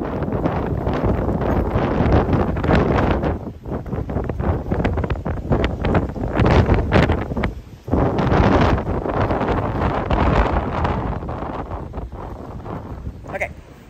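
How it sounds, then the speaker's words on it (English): Strong gusting wind reaching about 50 mph in Beaufort, North Carolina buffets the microphone with loud, continuous roaring and rumbling. The wind surges and drops for several seconds at a time. "the wind's just blowing. It got up to like 50 miles an hour"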